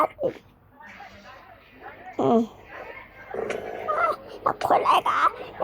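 A small puppy whimpers and gives little high yips close by, in short scattered bursts, while a person speaks softly to it throughout.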